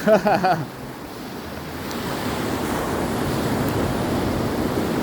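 Waves wash in on Karon Beach with a steady, broad roar of surf and some wind noise, after a brief moment of a voice at the start.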